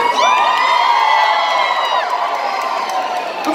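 Concert crowd at Webster Hall in New York screams and cheers loudly and continuously for a live show, a dense wall of high-pitched shrieks and whoops.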